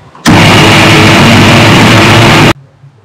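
A mixer grinder grinds theeyal paste of oil-rich ground coconut with no water added, a loud, steady whirring roar that starts abruptly, runs for about two seconds, then cuts off.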